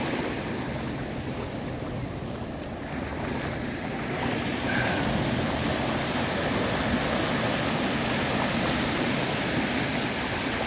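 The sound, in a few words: Atlantic Ocean waves at Short Beach, Maine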